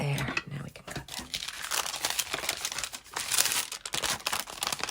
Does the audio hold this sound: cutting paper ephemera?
yes